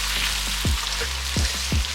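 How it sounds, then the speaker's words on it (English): Curry powder frying in a pan for jollof rice gives off a dense, continuous sizzle, close and fairly loud, with faint low bubbling pops underneath. "fry it for 5 minutes"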